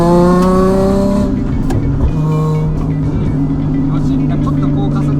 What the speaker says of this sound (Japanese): ちょっとこう加速法定速度内にするだけでも気持ちいいですねこういう車は